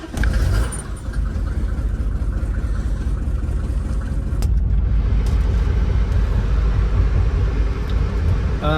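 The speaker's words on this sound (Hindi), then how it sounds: "Cold start." Mercedes W124 engine cold start, a loud, close, steady low engine rumble that holds an even idle throughout with no talk over it.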